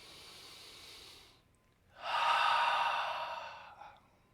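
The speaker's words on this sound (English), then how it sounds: "take a deep breath and let go on the exhale" A slow, deep breath during a guided meditation: a soft inhale, then a brief pause and a long, audible exhale that fades out, close and alone with no talking.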